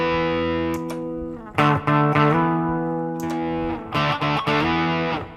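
Electric guitar on the bridge humbucker through a Line 6 Pod Go, a sustained distorted chord with chorus and reverb, broken by short choppy strummed bursts, loud and alone.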